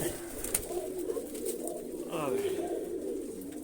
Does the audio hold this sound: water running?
no